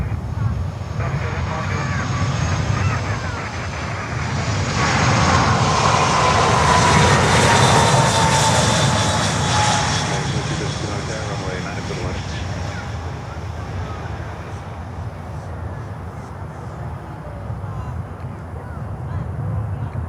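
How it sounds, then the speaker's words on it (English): An Airbus jet airliner touches down on the runway, a distant engine roar that swells to a broad peak midway with a faint descending whine, then eases into a low rumble, with radio chatter faintly underneath. "The computer buttered the Airbus on the ground."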